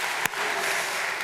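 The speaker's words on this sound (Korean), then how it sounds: "함께 감사의 박수를 한번 보내주시면 좋겠습니다." Brief applause from a congregation during a Korean church worship service, a moderate steady patter of clapping with one sharper clap near the start.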